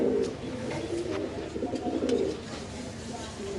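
Soft pigeon cooing repeats in low, burbling phrases nearby, with a voice speaking intermittently over the birds.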